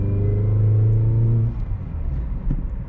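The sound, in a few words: Peugeot 207 1.4 petrol car driving on test drive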